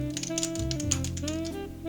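Quick, uneven keystrokes clatter on a keyboard, a run of light clicks heard over sustained background music.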